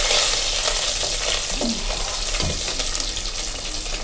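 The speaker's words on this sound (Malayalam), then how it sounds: "എള്ളും ഉലുവി കുറച്ച് കടുകും പാടല്ലേ, അതും കൂടി ഒന്ന് വറുത്തിട്ട് ഇതാ പൊടിച്ചെടുക്കട്ടെ." Sesame, fenugreek and mustard seeds dry-roast in a pan, giving a steady close crackle and hiss with occasional scraping stirs and no voices.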